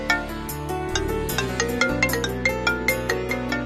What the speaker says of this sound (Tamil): மாமா கலெக்டர் பிஏ தான் ஃபோன் பண்றாரு.